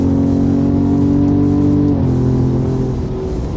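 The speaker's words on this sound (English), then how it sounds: "All right, first gear, we'll mash the throttle." A Ford F-150 Raptor fitted with a Borla 3-inch stainless mid-section, Atak mufflers and X-pipe growls loudly under full throttle in first gear, a steady deep drone that shifts pitch once as it pulls, with no talking.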